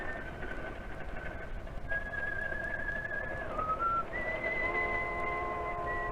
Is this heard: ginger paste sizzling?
no